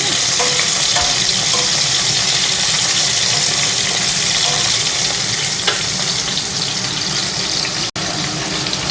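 Drumstick pieces fry in a pan over lowered heat, giving a loud, steady, dense sizzle that runs continuously with a faint scraping stir now and then, close up and with no talking.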